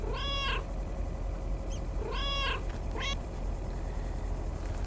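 Two drawn-out cat meows from a video game character's cat, followed by a short chirp, sounding clear and close over a steady low background hum with no talking.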